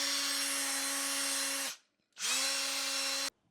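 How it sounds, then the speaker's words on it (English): An electric power drill fitted with a wire brush whirs at steady high speed, scrubbing metal on a golf club. It runs in two loud close bursts separated by a short stop, with no talking. "So I'm just gonna hit that with the power drill for a little bit."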